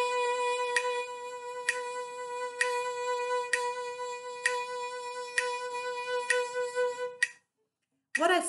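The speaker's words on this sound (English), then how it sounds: "the real challenging one is to do 16th notes, which will sound like this." A violin plays a vibrato exercise in 16th notes on one sustained, bright note, close and alone, with evenly spaced pulses before it cuts off abruptly near the end.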